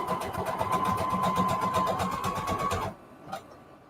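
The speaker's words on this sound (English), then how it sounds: "I can't sew that fast because I have to keep aligning them" A sewing machine stitching lace onto fabric scraps, a steady close, rapid whirring patter at a moderate pace that stops abruptly, leaving a brief click in the quiet.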